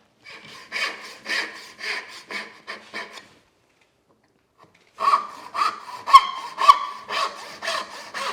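A hand saw cuts a kerf into the adjoining wood piece of a workbench edge, a series of close, rhythmic rasping strokes, then a pause of nearly two seconds before faster strokes resume.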